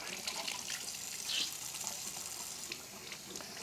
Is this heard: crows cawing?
no